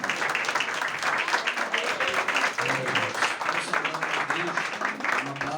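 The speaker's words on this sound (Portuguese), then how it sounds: "Vamos receber uma salva de palmas bem forte para o nosso Deus." A church congregation gives a loud, strong round of applause during a service, continuous dense clapping close and full throughout, with voices and cries of worship mixed in.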